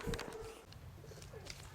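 Low cooing of pigeons, soft and somewhat distant, amid outdoor background noise with occasional faint chirps.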